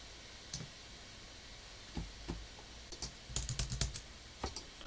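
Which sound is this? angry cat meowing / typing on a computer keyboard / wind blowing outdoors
typing on a computer keyboard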